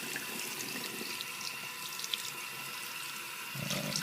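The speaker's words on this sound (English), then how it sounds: "Basically just run the shoe underwater." Tap water runs steadily into a sink while the sole of an Air Jordan XI sneaker is rinsed under it, a faint, continuous splashing stream with a slight change in the flow near the end.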